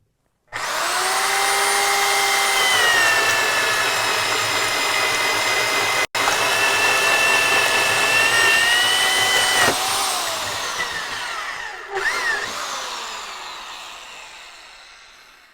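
A corded Dewalt DWD460 joist drill on low speed boring holes in wood, a loud sustained whining motor that starts abruptly, holds steady with a brief dropout, then winds down and bogs slightly near the end.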